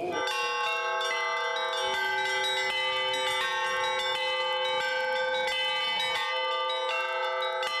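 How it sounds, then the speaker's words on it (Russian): A newly consecrated church bell rings continuously, its rich metallic tones overlapping and sustaining with no pauses, loud and unaccompanied by voices. "На прошлой неделе был освящен колокол, и он уже начал звенеть вовсю."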